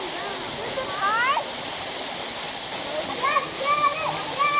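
Steady, loud rush of a waterfall, with men walking down through the falling water; faint whistle-like tones and voices rise briefly over the continuous roar.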